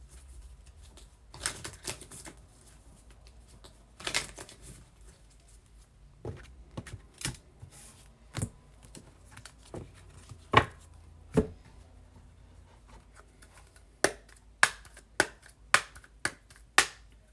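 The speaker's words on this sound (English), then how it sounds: "I am going to just finish shuffling the last deck" A tarot deck is shuffled close by, with sharp, irregular bursts of card riffles and snaps spread across a quiet room, clustering into quicker taps toward the end; no one speaks.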